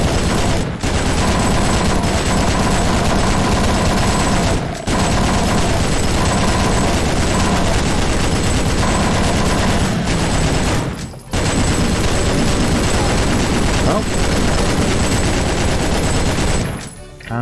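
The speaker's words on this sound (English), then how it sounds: "And we have the arrival of the chain gunners." Chaingunner enemies in Doom hammer out sustained, loud automatic fire in long continuous bursts, broken by a few short pauses.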